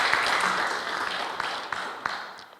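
A crowd at a labour union gathering claps together in a dense, continuous patter, with a few sharper individual claps standing out as it gradually fades.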